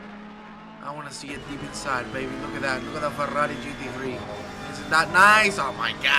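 A Ferrari GT3 race car in a racing video game at Barcelona roars past with rising and falling engine revs and some tire noise, mixed under excited overlapping commentary.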